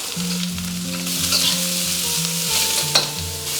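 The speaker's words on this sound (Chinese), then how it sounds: "锅里我们倒入一些食用油，我们先下入牛肉，给它翻炒一下，把它水分稍微煸干" Beef stir-frying in cooking oil in a wok, with loud continuous sizzling and frying alongside scraping stirs and a few clanks of utensils against the pan.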